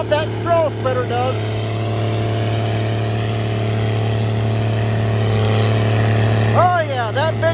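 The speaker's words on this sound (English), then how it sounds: "Oh yeah, that big motor sounds good under load." A Case combine harvester's big motor runs under load in a bean field, a steady loud low hum and rumble held close throughout, with a person talking over the start and end.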